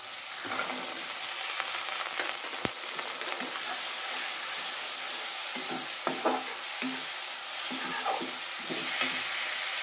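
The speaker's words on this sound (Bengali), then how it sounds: "কিছুটা নেড়ে এবার দিয়ে দেব কড়াইশুঁটিটা" Spiced potatoes and peas frying and being stirred in a wok, a steady close sizzle with scraping stir strokes and occasional clatter, no voices.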